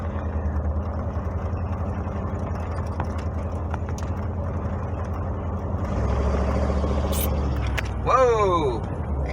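A pickup truck with a mean-sounding engine is out for a drive. Its low, steady rumble swells louder partway through, and a brief voice rises near the end.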